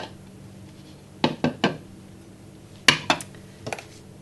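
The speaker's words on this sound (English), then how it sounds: "We're just going to simply lift the lid and just add all the ingredients" A slow cooker lid is lifted and beef stew ingredients go in, heard as a few sharp ceramic and metal clinks and knocks in two short clusters, close and otherwise quiet.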